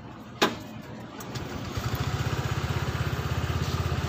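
A Honda Vario motorcycle engine cranks after a click, catches and settles into a steady, rapid idle putter, close and clear.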